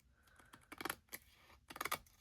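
Scissors snip through excess craft netting in quick bursts of sharp, close, crisp cuts, with short pauses between the clusters and no voices.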